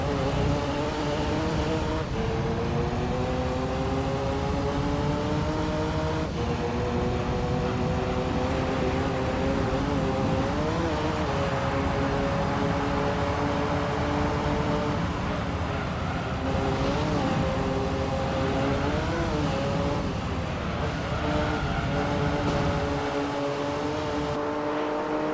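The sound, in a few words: race car engine in video game Gran Turismo 3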